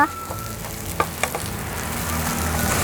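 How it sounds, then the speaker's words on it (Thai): Angled loofah going into a pan with fragrant garlic over medium heat, a steady sizzle with a few quick utensil taps as the stir-fry begins. "กระเทียมเริ่มหอมแล้วเราก็ใส่บวบลงไปผัด"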